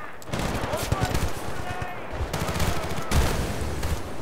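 Gunfire in the shooter Battlefield: Bad Company 2, a steady mix of rapid shots and bursts with heavy low rumble running throughout, layered combat noise with voices faintly mixed in.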